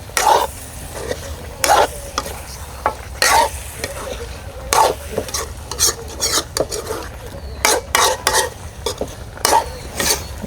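Green chilies go into chicken roast frying in a pan, with repeated loud spatula scrapes and stirs over a continuous sizzle, the strokes coming in irregular bursts.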